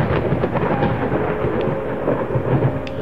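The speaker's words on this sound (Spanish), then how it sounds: "La tormenta cada vez con más fuerza, señores." Thunder rolls through a stormy scene in the horror game Layers of Fear, a loud sustained rumble with rain hiss and a few sharp cracks, no voices.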